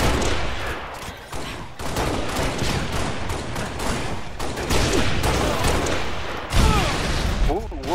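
Grenade launcher shots and explosions in Halo Reach multiplayer come as rapid, dense bursts of blasts and gunfire, loud and close, with players talking over them.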